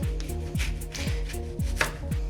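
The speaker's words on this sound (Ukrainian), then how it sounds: "І сюди я нарізаю пів лимона" Several quick knife cuts through half a lemon thud on a cutting board in a steady rhythm, close and crisp.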